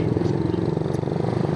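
Suzuki Satria FU motorcycle riding along a paved road, its engine giving a steady, close mid-pitched drone with a fine rapid pulse and no clear revving.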